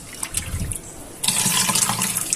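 Water squeezed out of a sponge while emptying an aquarium, first as a short soft dribble, then as a louder, steady splashing stream pouring into a container, with no talking.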